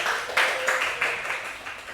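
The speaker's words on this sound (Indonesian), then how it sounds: "Betul, tepuk tangan." Students applaud in a classroom microteaching session, a short burst of small-group clapping at moderate distance that swells in a few waves and trails off, with faint voices underneath.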